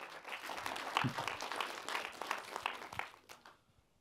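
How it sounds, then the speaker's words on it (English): Light applause from a film festival talk audience after a Q&A answer, scattered individual claps that are fairly faint and close, building briefly then thinning out and fading to quiet. "a round of applause."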